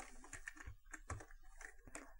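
Computer keyboard typing in a quiet room, a handful of soft, irregular key clicks spread over a couple of seconds, faint and close, with no voices.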